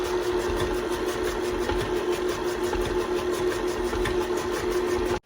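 A stand mixer with a paddle beating chocolate chip cookie dough, a steady close motor whir with a rhythmic thumping that runs continuously and then stops abruptly at the end.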